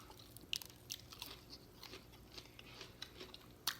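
Quiet, close bites and chews on a Burger King onion ring: a few sharp crunchy snaps followed by soft, irregular chewing, with no talking.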